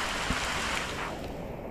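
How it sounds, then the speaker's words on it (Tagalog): Heavy rain pours down outdoors near rocky water, a dense, steady hiss of drops on surfaces that stays close and fairly loud for the whole moment. "Nalakas na naman ang ulan."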